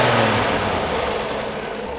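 A truck engine idles steadily and close by after an idle adjustment, with an even low rumble that eases slightly over two seconds.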